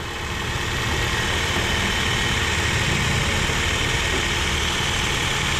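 A Toyota Vios car engine idles steadily after being started, a continuous close rumble with a faint ticking typewriter-like rattle running through it, with no voices.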